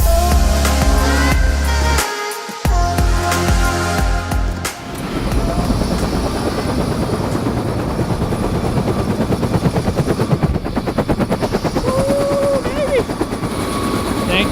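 A helicopter in the Alpine area of Banff, Alberta spins up from a quieter start into a loud, close, rapid rotor chop and engine roar that holds steady through the flight, with radio chatter briefly audible.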